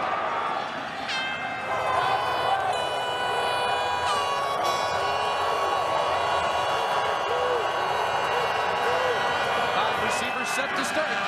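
A packed stadium crowd at the 2009 Grey Cup football game keeps up a steady, loud roar of cheering with horn-like tones, under continuous broadcast commentary.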